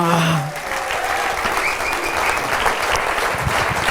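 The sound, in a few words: audience applause for the sound technician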